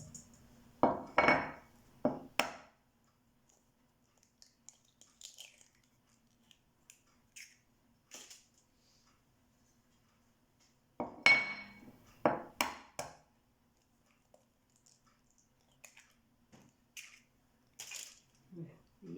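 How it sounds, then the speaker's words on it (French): Eggs cracked one at a time against a bowl while making walnut brownie batter, two clusters of sharp taps and cracks separated by a long quiet stretch, with small clicks and handling noises in between. "je vais casser chaque œuf séparément parce que j'ai toujours peur"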